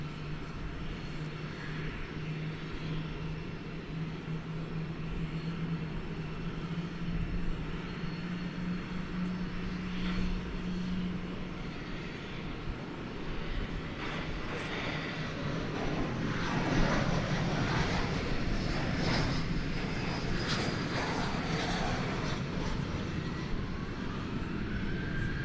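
Jet engine roar from an American Airlines airliner on runway 18 left at DFW Airport at night, a broad steady rumble heard from a distance that swells louder in the second half.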